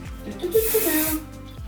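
A steady hiss of Kevin Murphy Bedroom Hair texturizing hairspray sprayed onto hair, lasting about a second, heard close under a faint voice with low background noise.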